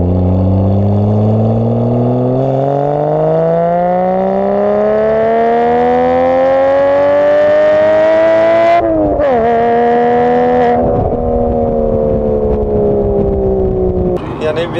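A Porsche Cayman with a rare manual gearbox and a new exhaust revs hard from inside the cabin, climbing steadily in pitch for several seconds. It breaks off with a sharp shift, then drones again under loud, continuous engine noise.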